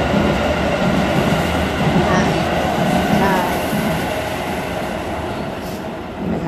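A train pulls into a station platform in Tokyo, its loud steady rumble and rushing air filling the scene, with wheel noise building and then easing slightly as it slows.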